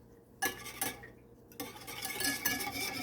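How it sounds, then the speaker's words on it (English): Homemade coleslaw is stirred in a bowl with salt, black pepper and vinegar. Close, soft scraping and sloshing strokes repeat in an irregular rhythm, quiet and alone. "And then you're gonna mix it up, folks."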